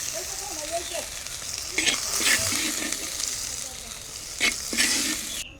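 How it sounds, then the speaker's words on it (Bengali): Bitter gourd frying in a wok, a steady broadband sizzle with a few louder bursts of stirring and scraping, close up, no talking. "খুব বেশি কড়াও ভাজিনি আবার অল্পও নয় এইরকমভাবে উচ্ছাটাকে ভেজে নিতে হবে"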